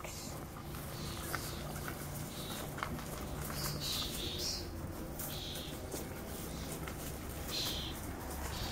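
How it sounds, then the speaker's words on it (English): Birds call and coo in a shaded spot, among them a dove-like cooing with scattered chirps, moderately close and steady under a mild outdoor hum. "Listen to the beautiful birds."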